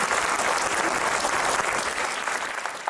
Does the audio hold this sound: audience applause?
yes